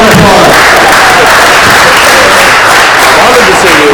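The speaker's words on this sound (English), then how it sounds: "Give a round of applause." Loud, dense audience applause fills a membership meeting hall during a quiz game, a continuous wash of clapping at an even level with voices mixed in.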